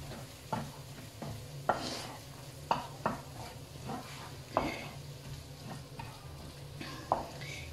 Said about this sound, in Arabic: Me voy a mezclar todo.